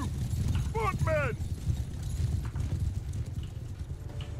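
Cavalry horses gallop in a Mount & Blade 2 Bannerlord battle, a rapid drumming of hooves under a shouting voice, with a brief whinny early on.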